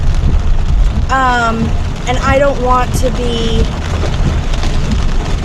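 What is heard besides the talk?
heavy rain pouring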